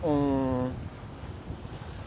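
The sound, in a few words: headwind blowing on boat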